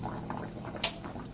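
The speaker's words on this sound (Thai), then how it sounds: "ต้มหมูเนี่ยครับไว้สัก 30นาที" Pork for crispy pork belly simmers in a pot of water with a low, steady bubbling. A single sharp clink of metal rings out partway through.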